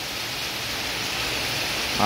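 Heavy rain pours without pause outside a house and shop during a flood, a steady broadband hiss that stays even throughout, with a brief louder sound just at the end.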